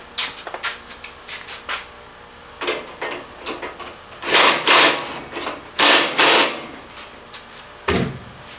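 Wrenches clicking and ratcheting on bolts while assembling a Harbor Freight four-drawer tool chest, a series of close metallic ticks and scrapes with irregular rhythm and louder bursts of cranking.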